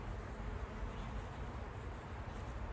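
Honey bees in a nuc hive give off a steady, dense buzzing hum that runs evenly through the whole stretch at close range, with no voices over it.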